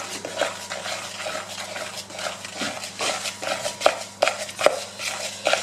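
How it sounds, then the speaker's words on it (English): Cupcake batter with butter is mixed by hand in a bowl. Irregular scraping and soft clinking strokes repeat close up, with a few louder knocks of the utensil against the bowl. "when I start mixing it"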